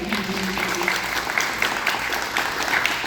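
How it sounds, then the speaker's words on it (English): Audience applause at a panel discussion about Baltimore's Koreatown, steady dense clapping from a crowd throughout, with a faint murmur of voices underneath. "Can we get a round of applause for"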